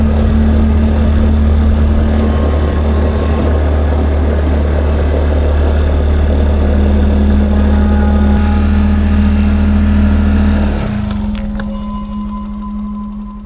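A motorcycle engine labours steadily up a slope on a jungle trail toward a waterfall, its loud, constant drone and strong low hum filling the recording before the revs drop away near the end.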